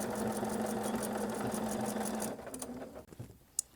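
A sewing machine runs a 5/8 seam through fabric with a rapid, steady mechanical whir close by, then stops, leaving a few handling clicks and a small knock.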